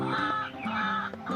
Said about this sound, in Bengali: আর ডাক পাখিগুলো ডাকছে কেন